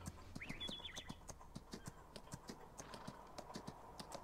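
Hooves of a horse in the Farming Simulator 19 video game clip-clop at a steady walking pace, clear evenly spaced hoofbeats with a brief bird chirp early on.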